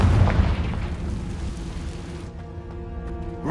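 A Confringo blasting spell detonates in Hogwarts Legacy, a loud, deep booming explosion that rumbles for a couple of seconds before cutting to quieter game sounds.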